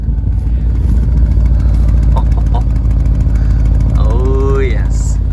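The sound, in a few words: car engine started and idling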